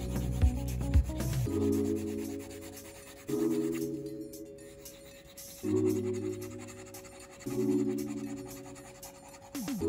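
An XP-Pen Deco Fun stylus scratches across the drawing tablet surface in four rhythmic rubbing strokes, each a soft, raspy scrape heard up close at low volume with no talking.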